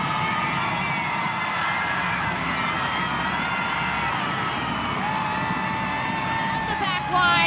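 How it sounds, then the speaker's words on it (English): A stadium crowd at a Seattle Reign FC women's soccer match roars continuously after an equalizer, with broadband cheering and whoops throughout and a commentator talking over it. "The crowd goes wild because Seattle Reign have equalized."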